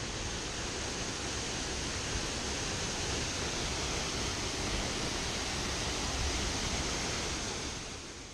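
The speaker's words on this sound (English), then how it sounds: "Finally, we are at the waterfall." Loud, steady roar of a waterfall heard from close behind the falling water on a Central America hike, a dense unbroken wash of noise filling the whole clip.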